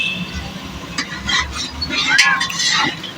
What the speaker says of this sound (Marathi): कांद्याला फिरवत राहायचं आहे थोड्या थोड्या अंतराने